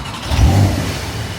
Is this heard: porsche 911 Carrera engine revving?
yes